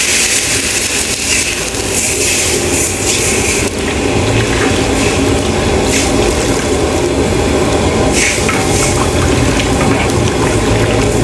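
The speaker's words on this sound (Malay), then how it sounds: "Yang baru kita masukkan air." Water pours continuously and loudly into a pot for fish soup, making a dense, steady rushing splash that lasts throughout.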